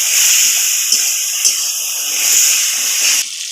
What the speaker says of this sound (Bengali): তো সামান্য অল্প একটু আমি জল দিচ্ছি।